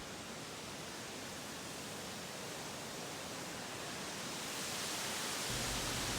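Wisconsin waterfall roaring as a steady broadband wash of falling water, growing slightly louder toward the end, with no voices.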